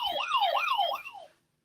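A siren sound effect, three quick rising-and-falling wails that stop abruptly after about a second and a half, heard alone.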